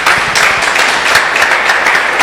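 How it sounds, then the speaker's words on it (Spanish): A church congregation bursts into brief, loud applause, a thick patter of many clapping hands lasting a couple of seconds. "Dale un aplauso al Señor si lo cree."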